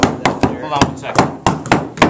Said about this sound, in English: Grab your hammer here.